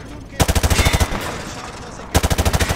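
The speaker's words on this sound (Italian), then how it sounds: "Soldato Allen, prendi la mira prima di sparare." Bursts of rapid automatic gunfire hit shooting-range targets in Call of Duty: Modern Warfare 2, two loud close volleys of evenly spaced shots separated by a quieter gap with faint background activity.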